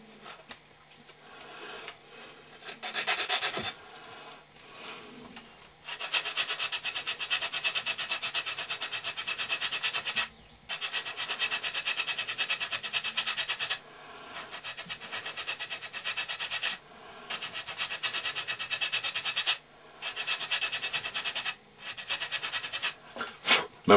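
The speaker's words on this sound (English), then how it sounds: "Remember, don't sand too hard," Hand sanding of body filler on a car body panel during bodywork on a 1962 Mercury and 1972 El Camino, a steady rasping scrape in long close bursts separated by brief pauses, with no talk.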